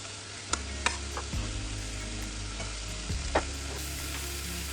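Onions and potato sizzle in melted butter for broccoli soup, a close, steady frying hiss with a few sharp clicks of a spatula stirring and no talk.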